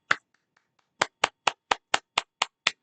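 Audience clapping after a lecture in a class on Western civilization through film, heard as about nine separate sharp claps in a steady rhythm after a few faint taps, close and clear with no talk.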